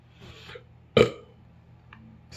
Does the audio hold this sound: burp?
yes